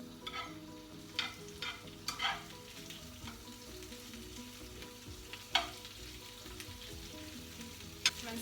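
Spinach leaves sizzling and frying in a pan for an omelette, a steady soft crackle with a few sharper utensil scrapes and taps as the greens are stirred.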